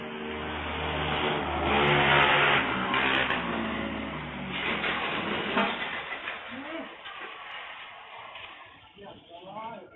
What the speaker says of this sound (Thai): ภาพจากกล้องวงจรปิดได้ยินเสียงมอเตอร์ไซค์มาแต่ไกลเลยค่ะ